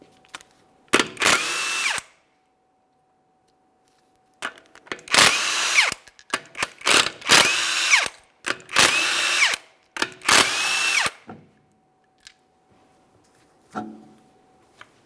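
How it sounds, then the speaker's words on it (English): A power tool rattles off the 21mm lug nuts on a car wheel, a front wheel of a 2008-2017 Mitsubishi Lancer, in several short, sharp bursts of one to two seconds separated by near silence, close and loud, with no voices. "we're going to remove all 5 of our 21mm lug nuts and then the wheel"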